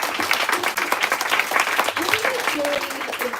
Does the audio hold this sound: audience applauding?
yes